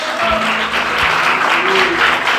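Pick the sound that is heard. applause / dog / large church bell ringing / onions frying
applause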